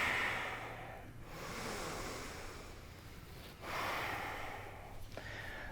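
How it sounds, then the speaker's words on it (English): Forceful, breathy exhales pressed out through the nose and mouth during a yoga therapy breathing exercise, several long airy pushes separated by brief pauses, close and clear with no talk. "So big inhales in and big presses of breath out."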